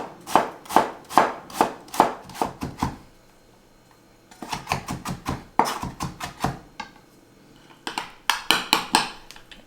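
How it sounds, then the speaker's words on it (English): A knife finely chopping onion on a cutting board, rapid rhythmic bursts of crisp taps in three runs separated by short pauses, close and clear. "we're going to chop in some onion, very finely minced"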